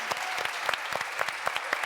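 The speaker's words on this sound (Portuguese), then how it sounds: "Então, aplausos para a Rogéria, que ela merece." Brief, faint applause from an audience, with a few distinct hand claps standing out over a soft, thin background of clapping.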